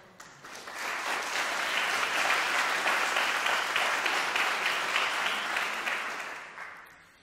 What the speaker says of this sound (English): we can give them a round of applause also